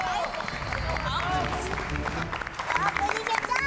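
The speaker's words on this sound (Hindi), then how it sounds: "तालियां तालियां भाई, तालियां।" A clubhouse audience at an award ceremony claps steadily under a lively mix of crowd chatter and background music, with the applause fairly close and continuous throughout.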